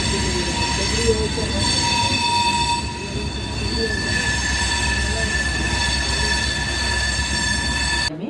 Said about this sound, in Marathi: आपली ट्रेन चालली लोणावळ्याला